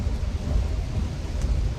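A heavy rain downpour beats steadily under a deep, continuous rumble of thunder, loud and close, with no voices.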